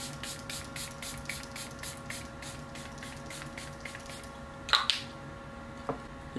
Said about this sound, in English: I'm just going to use a Charlotte Tilbury airbrush setting spray.